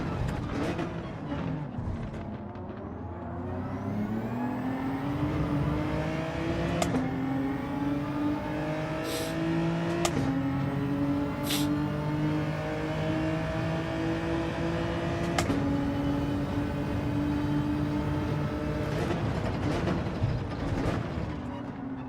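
A race car engine drones and shifts pitch as it drives in Gran Turismo 7, rising and falling through gear changes with occasional clicks and rattles, steady and moderately loud throughout.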